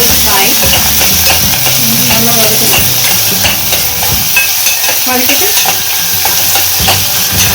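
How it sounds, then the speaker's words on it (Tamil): Mutton keema and onions fry in a pan while being stirred, a loud continuous sizzle broken by scraping, clattering strokes of the spoon throughout. "நல்லா கலக்கு நல்லா வதக்கணும்."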